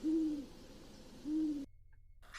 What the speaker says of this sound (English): Next up is the great horned owl, which makes the classic calling back.